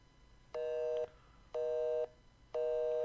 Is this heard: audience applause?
no